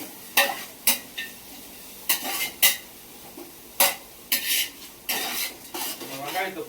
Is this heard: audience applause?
no